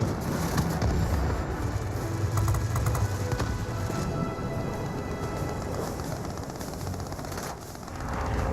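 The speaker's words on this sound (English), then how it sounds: "There's a heavy storm here." In a video game, a heavy rainstorm with thunder makes a loud, dense wash of rain noise. Low rumbling and scattered crackles run through it steadily for several seconds, and there is no speech.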